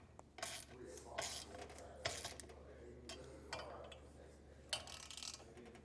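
A 1/2-inch socket wrench snugs down the flange nuts of a B&W Companion 5th wheel hitch in a 2024 Ford F-350, giving several faint, short bursts of ratcheting and rubbing spread across a quiet background.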